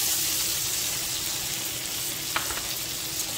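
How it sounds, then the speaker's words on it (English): Chopped onions dropped into melted butter and a teaspoon of olive oil for Cajun chicken pasta, a dense, even hiss of frying close by, with a faint clink near the end and no voices. "I'm going to add just about, I don't know, a teaspoon of olive oil into the mix, and then drop in the onions."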